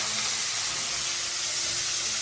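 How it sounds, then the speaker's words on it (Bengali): Onions frying in a pan give a loud, steady broadband sizzle and hiss that runs unbroken from start to finish, with no voices over it. "এবার আমি পেঁয়াজগুলো ভেজে নেবো"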